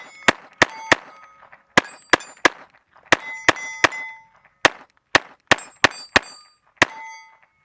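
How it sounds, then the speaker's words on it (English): A Taurus TX22 .22lr pistol fires a magazine of Golden Bullet ammunition in a rapid, uneven string of sharp cracks, many followed by bright metallic rings. "do a mag of golden bullet through the TX22"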